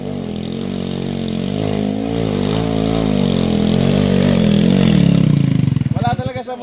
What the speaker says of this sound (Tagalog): Ay, ano yung motor ng taga Davao.